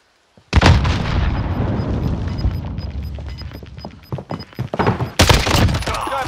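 Rapid bursts of gunfire and explosive booms in Warzone gameplay, dense and loud from the start, then a quicker string of distinct shots and a final heavy burst, no voices.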